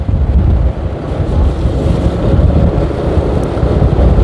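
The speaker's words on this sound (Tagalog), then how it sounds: "Malakas yung hangin sa side winds sa right." Strong side wind buffets the microphone during a road bicycle race, a loud, continuous roar that stays steady for several seconds with no voices.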